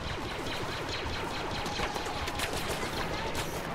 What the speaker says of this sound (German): Hört auf, immer auf mich zu schießen